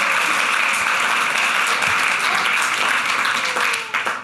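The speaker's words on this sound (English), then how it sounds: "The crowd erupted in applause." A large conference audience at the WordPress State of the Word 2022 gives loud, sustained applause with dense clapping throughout, tapering and thinning in the final half second.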